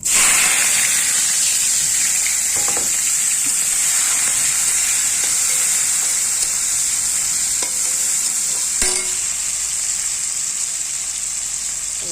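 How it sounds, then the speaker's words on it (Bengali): Nigella seeds, onion and green chillies frying in hot oil for tempering dal, a steady loud sizzle and hiss throughout with occasional stirring clinks, no talking. "তেলের উপর দিয়ে দেবো অল্প কালো জিরা, দিয়ে দেবো পেঁয়াজ, মরিচ, কাঁচা লঙ্কা।"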